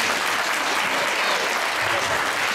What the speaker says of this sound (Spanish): este aplauso que sea para yo y para todos ustedes